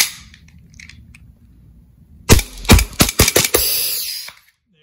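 RWA NightHawk gas blowback airsoft pistol fired rapidly, a close burst of about eight sharp cracking shots in quick succession, then a brief hiss of gas before silence.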